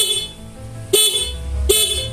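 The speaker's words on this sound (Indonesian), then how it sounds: "saya tekan klakson maka bunyi" Horn on a Yamaha X-Ride motorcycle, pressed twice with the ignition on, giving two short, loud, close honks about three-quarters of a second apart over faint background noise.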